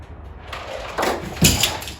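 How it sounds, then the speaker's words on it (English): A few sharp plastic pops and clicks, one louder snap near the end, as a Dodge Charger door panel module is pried loose at close range. "I'm gonna go ahead and pop the door"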